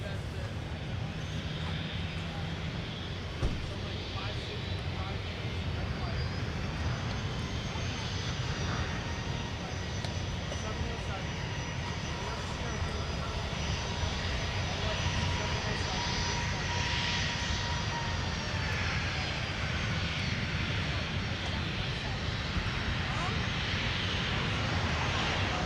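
A Delta Airbus A220-100 jet arriving at MSP airport roars steadily from a distance, a sustained engine rumble and whine across the whole stretch, with radio voices talking over it.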